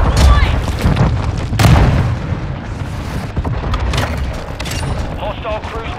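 In the video game Call of Duty Modern Warfare 2, a cruise missile explosion lands as heavy, booming blasts that rumble through a busy battle soundscape, with gunfire and faint voices mixed in.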